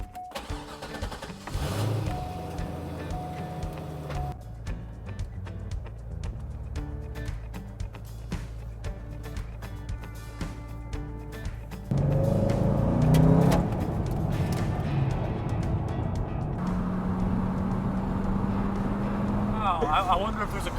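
A Chevrolet Corvette C5 Z06, rebuilt after a wreck, drives with a steady low engine drone that rises and thickens partway through as it pulls harder, with people talking over it.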